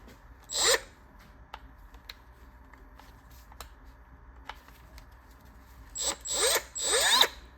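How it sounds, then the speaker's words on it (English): A Milwaukee cutoff tool cuts into a Craftsman V series ratchet in short bursts, with a brief whine near the start, quiet handling clicks, then several louder cutting bursts toward the end. "So I'm just gonna use a Milwaukee cutoff tool right here."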